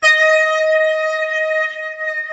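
A passing train gives off a loud, steady tonal blare with rich harmonics. It holds nearly level for about two seconds before wavering slightly and easing off toward the end.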